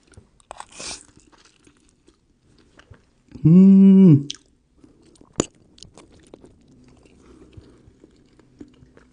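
Spicy Korean-style ramyon noodles being eaten, with soft crunchy chewing and small mouth clicks close up, broken by a loud, brief hummed vocal tone midway.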